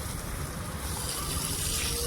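Water gushes steadily from a pumped irrigation line into a farm field, a continuous close rushing flow with no talk.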